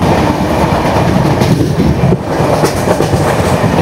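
An AC superfast express train from Chennai to Trivandrum runs at top speed near Jolarpettai, with a loud, steady roar and clattering wheels heard from on board, and no talk.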